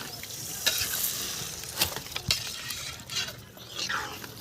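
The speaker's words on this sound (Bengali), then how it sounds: "চিংড়ি মাছের মালাইকারিতে এবারে আমি দুধ দিয়ে দেবো নারকলের দুধ" Coconut milk poured into a sizzling prawn malai curry, a close crackling fry hiss with stirring scrapes and a few metal clinks from the pan, moderately quiet.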